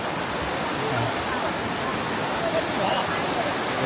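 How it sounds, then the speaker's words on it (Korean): Steady, dense rushing water of Shuzheng waterfall in Jiuzhaigou, Sichuan, roars continuously, a broad wash of noise with no breaks. "여기가 손두탄 폭포입니다."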